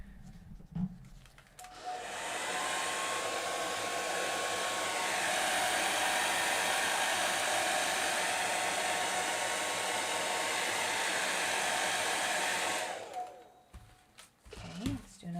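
Heat gun blowing on alcohol inks on Yupo paper, a loud continuous blowing roar with a steady whine that starts about two seconds in and cuts off near thirteen seconds, with brief speech before and after.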